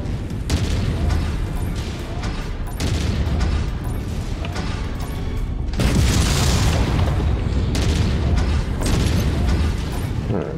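Missile explosions from the mech combat video game MechWarrior 5: Mercenaries, with dense, continuous rumbling booms and bursts layered over steady mechanical noise, loud and sustained throughout, with a few faint voices.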